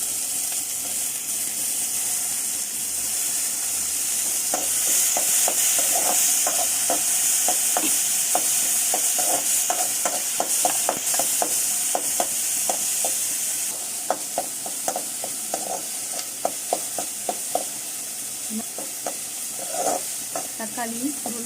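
Tomatoes with curry leaves sautéing in a pan for sambar, a steady hiss of frying broken by frequent clicks and scrapes of a spoon stirring, close and continuous throughout.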